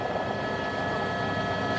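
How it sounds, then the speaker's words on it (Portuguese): The presidential airplane lands at Congonhas airport in São Paulo, a steady loud engine roar filling the whole moment without talking. "Você acompanha ao vivo o pouso do avião presidencial."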